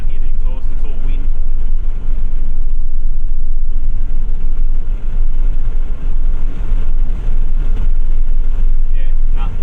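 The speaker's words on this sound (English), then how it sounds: "there's more wind noise than exhaust at 110" Heavy wind noise fills a car cabin cruising at 110 on an axle-back exhaust, a loud, constant low roar that fully masks the exhaust.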